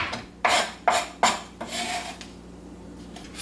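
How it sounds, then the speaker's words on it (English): A knife chops shadow benny (culantro) on a board in a few sharp, separate strikes, then a softer scraping. The sound is close and clear, with no talk. "Finely chopped shadow benny."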